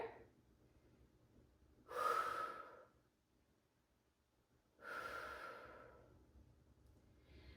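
After a Pilates exercise, a person takes two long, heavy breaths, each a loud, close exhale lasting about a second, separated by quiet pauses, with no talking.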